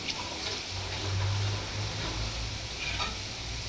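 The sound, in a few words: garlic frying and being stirred until golden brown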